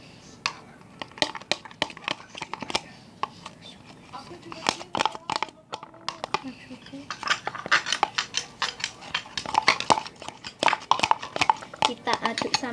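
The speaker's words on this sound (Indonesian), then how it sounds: "Kita aduk sampai rata." Homemade slime mixed with soap being stirred in a container: irregular clicking, scraping and squelching taps at close range, sometimes sparse and sometimes in rapid clusters, with a person talking intermittently.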